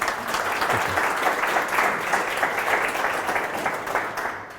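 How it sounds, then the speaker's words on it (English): A steady burst of applause from a crowd fills the whole stretch, dense and even, fading slightly at the end. "let's give a big round of applause"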